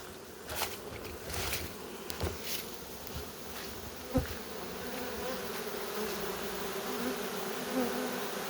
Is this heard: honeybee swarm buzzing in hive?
yes